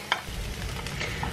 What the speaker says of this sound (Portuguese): Vou deixar dar uma refogadinha também, dar uma fritadinha nele.